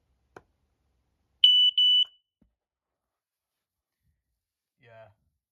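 A Prosafe battery-operated smoke alarm with a 10-year sealed battery gives two short, piercing high beeps during a button test, with a faint click before and a brief voice afterward.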